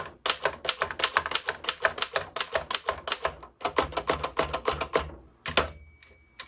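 A 1911 Royal Standard No 1 typewriter typing, a loud close run of crisp rapid keystrikes in an even rhythm, pausing briefly before a few final clacks.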